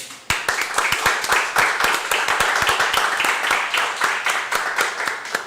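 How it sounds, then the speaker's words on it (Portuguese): A small audience claps in an irregular burst of sharp hand slaps for about five seconds, close and lively, with no speech. "bate palma aí"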